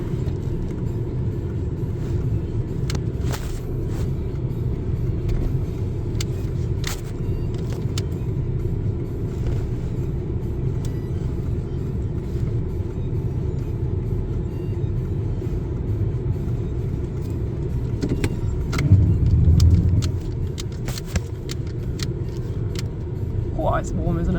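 Inside a 1995 Honda Legend KA8 shifting into reverse: a low, steady engine rumble runs throughout, with faint clicks and light rustling on top and occasional talk in the cabin.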